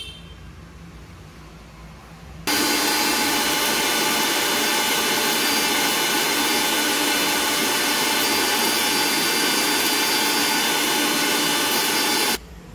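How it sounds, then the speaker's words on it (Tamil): An electric mixer grinder grinding dried oregano leaves into powder kicks in after a short quiet stretch and runs at a loud, steady whir for about ten seconds before stopping. "இப்போ இந்த மிக்ஸியில் நான் இதை அரைச்சி பொடி பண்ணிட்டேன்."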